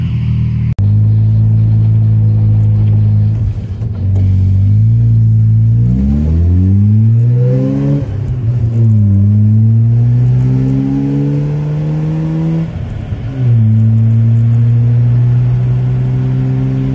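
A Mazda RX-7 pulls away from idle and accelerates hard, the engine note climbing through several rising revs and gear shifts, loud and close from inside the car during the drive.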